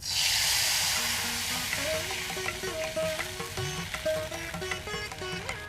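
Steady sizzle of a tamarind mixture boiling in a pot, with crackling bubbles and occasional clinks of a utensil against metal.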